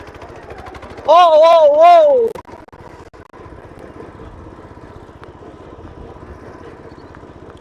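A homemade petrol-engine car with a motorcycle gearbox runs close by with a steady, low putter. A voice briefly cries out loudly over the engine near the start.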